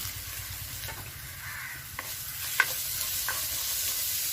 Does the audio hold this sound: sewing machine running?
no